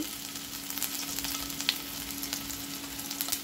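Ginger-garlic paste and a little chilli frying in hot oil in a kadhai give a soft, continuous sizzle with faint crackles, quiet and steady over a low background hum.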